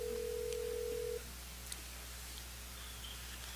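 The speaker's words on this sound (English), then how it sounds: "The next one's the phone call." A telephone rings once in a steady electronic tone during a committee meeting call, then cuts off, leaving a quiet room with faint background noise.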